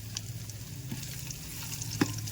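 Chilies and spices sizzle and crackle in hot oil, a steady close frying hiss with faint stirring clicks and no talking.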